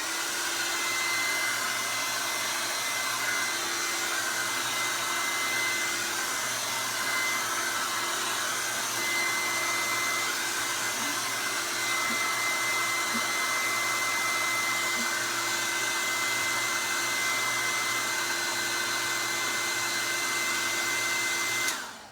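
Hair dryer blowing over a canvas coated in acrylic paint, a loud, steady, close whir with a constant motor hum that runs unbroken for over twenty seconds, then cuts off abruptly at the end.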